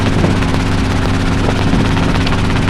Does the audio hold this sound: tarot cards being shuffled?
no